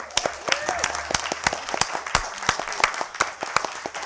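Audience applause at a community cannabis forum, a scattered room of sharp, irregular hand claps, fairly close and loud, with speech mixed in.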